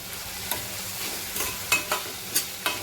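Chopped onion fries in a pan with a steady close sizzle, broken by a few sharp crackles and light stirring scrapes.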